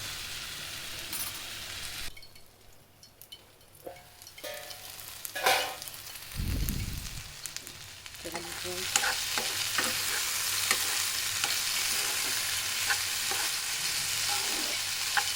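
Potatoes fry in a pan with a few spoonfuls of oil, a close crackling sizzle broken by stirring clatter and a brief low thump, then settling into a loud steady frying hiss.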